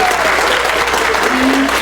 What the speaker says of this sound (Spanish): Un aplauso, chicos, por favor.